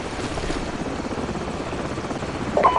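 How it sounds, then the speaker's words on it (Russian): A helicopter returns in the video game Call of Duty 4: Modern Warfare, its steady, loud rotor thrum droning throughout and swelling slightly near the end, where a short electronic tone sounds. "Держитесь, вертолет возвращается."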